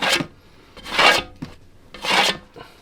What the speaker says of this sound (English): I'll do is scrape some of this goo off.